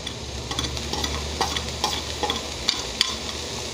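Shredded cabbage with dried prawns frying on a low flame with a lid to hand, a soft continuous sizzle with scattered light stirring taps and scrapes, close and even with no voices.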